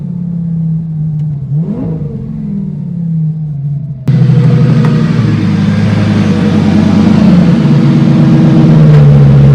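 A rebuilt, previously crashed Lamborghini Gallardo engine drones loudly while driving, then drops to a lower gear, with a rising rev and a sudden surge into a fuller, harsher roar that holds steady and close to the end.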